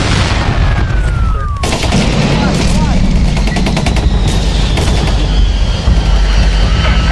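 Staged gunfire effect in a comedy action sketch, a loud, dense stream of rapid shots and bangs that carries on without a break, mixed with other effects and clutter.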